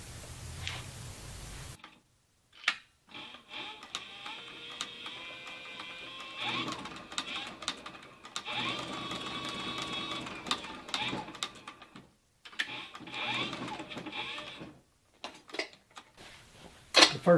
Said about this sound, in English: This spool is empty and it's ready to be wound.